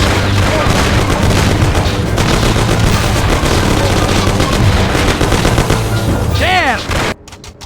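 Loud, continuous shootout gunfire in Mafia: City of Lost Heaven, dense overlapping shots and booms with shouting voices, then cutting off abruptly near the end.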